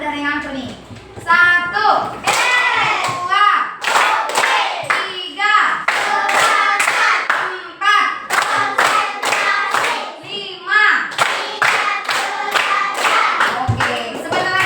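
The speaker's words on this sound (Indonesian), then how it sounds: "Kalau ibu bilang 1, kamu tepuk sekali. Sambil bilang yes." Children in a classroom clap in time with counting, sharp rhythmic claps in bursts mixed with young voices calling out, fairly close and loud.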